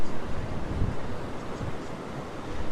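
Strong wind buffets the microphone at Currumbin Beach in Queensland, loud gusty rumbling with surf washing faintly beneath, no voices.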